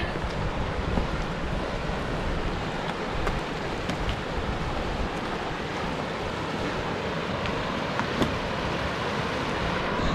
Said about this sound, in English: Little cascade going on here.